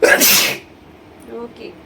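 A single loud, sharp human sneeze bursts out at the start during a sneezing challenge, followed by quieter moments with faint talk afterward.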